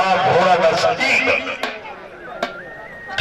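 A horse at a rural horse show in Pakistan lets out a high whinny amid crowd noise and loud announcer speech, with sharp clip-clop knocks.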